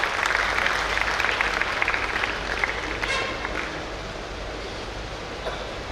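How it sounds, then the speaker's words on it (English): Steady crowd applause fills a Rotary district conference hall in Mangaluru as guests are welcomed, a dense broadband patter of many hands that holds level and then eases slightly toward the end. "Let's welcome them with a round of applause"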